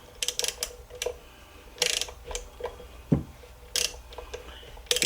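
Intake manifold bolts on a Chevy 3.6 LLT V6 are snugged with a ratchet, giving short bursts of close clicking ratchet strokes separated by pauses and a clunk of the tool.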